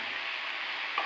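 Potato, beetroot and carrot are stirred in a hot pan after salt goes in, giving a brief, steady, close frying hiss with a faint scrape near the end.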